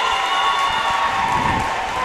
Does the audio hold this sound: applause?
yes